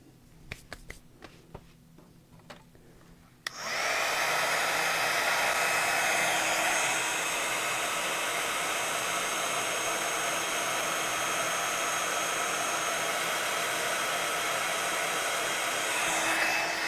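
A heat tool switches on with a click and blows a steady, loud, hissing whoosh that runs continuously for over ten seconds while it melts gold embossing powder on a journal page, preceded by a few faint taps.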